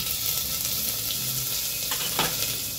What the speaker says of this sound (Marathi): इथे यामध्ये मी आले लसूणची पेस्ट एक अर्धा चमचा घालते